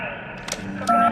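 A telephone being dialed in The Darkness: a few short electronic keypad beeps and tones, close and clear, over quiet room ambience.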